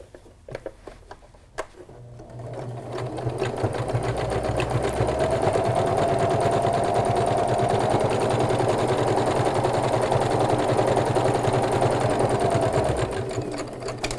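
A sewing machine stitches a straight seam on a love pillow, starting quietly, then settling into a loud, steady, fast whir that holds for about ten seconds before easing off.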